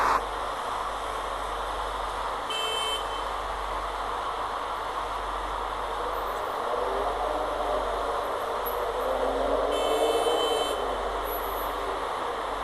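Road traffic on a busy street heard through noise-cancelling earphones: the low rumble is pushed down to a muted wash, while short bright horn-like bursts still cut through twice, with a faint rising engine whine between them.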